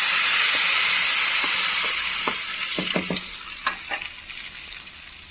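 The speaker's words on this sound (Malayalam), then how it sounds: "നമുക്കിത് കറിയിലിട്ട് ഒഴിച്ച് കൊടുക്കാം" A hot tempering with asafoetida is poured into a pot of sambar, giving off a loud, close, steady hiss and sizzle with a few soft clinks and bubbling pops as it settles.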